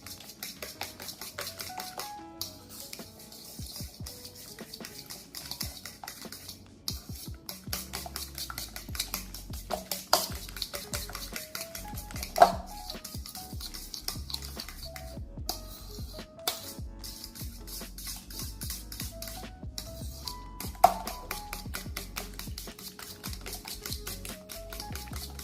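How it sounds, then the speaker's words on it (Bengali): Spiced batter for bottle gourd leaf pakora being beaten in a bowl, with a long run of quick, light, close tapping and stirring and a couple of sharper knocks against the side. "সবগুলি আমি একসাথে ফেটে নেব।"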